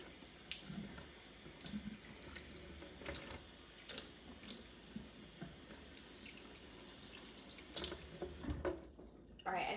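Lukewarm tap water runs into a sink while a human hair wig is rinsed under it, a steady soft hiss of flowing water broken by splashes and handling knocks, fairly faint and close, ending with a brief louder burst.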